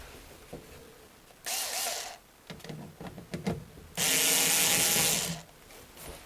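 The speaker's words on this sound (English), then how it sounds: "there's only one screw which is holding the metal case" A screwdriver works the single screw holding the metal case on a Vaillant ecoTec boiler, giving two long, loud bursts of grinding, rasping turns broken by short clicks and taps, with no talking.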